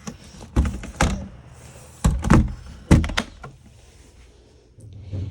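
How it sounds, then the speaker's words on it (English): A solid interior door in a 2023 Forest River Salem FSX Platinum 290RTKX toy hauler is handled and shut, a series of close wooden thunks and latch clicks in small clusters, with no talk. "this has nice solid doors because this sleeps a lot of people. You can close it off"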